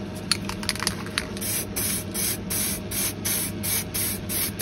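A spray can of primer hisses in short regular bursts onto a costume armour belt piece, with faint rattling clicks at the start, close and fairly loud.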